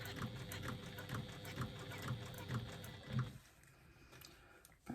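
A sewing machine stitches fabric in steady, rapid mechanical bursts for about three seconds, then stops, leaving quiet handling noise and a faint click at the end.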